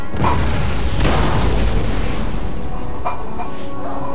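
Artillery cannons fire in a Napoleonic-era battle in the strategy game Napoleon Total War, a loud booming blast rolling into a long rumbling decay with fainter distant reports later, no talking.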